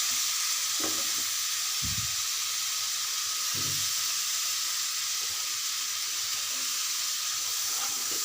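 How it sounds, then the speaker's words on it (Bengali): Spices and chili powder sautéing with dried fish in a pan for a fish curry with eggplant, a constant bright sizzle with occasional scraping stirs and low clunks underneath, no voices. "এখন আমি এগুলো ভালো করে কষিয়ে নেব"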